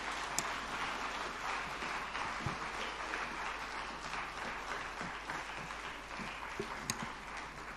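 A ceremony audience at the National Teachers' Summit in Abuja claps for the Minister of Education, a sustained, fairly faint round of applause from a crowd with a few sharper claps standing out.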